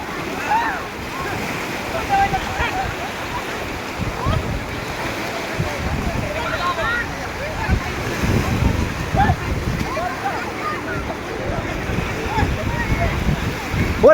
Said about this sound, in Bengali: ওই যে আটা ঢেউ আসতেছে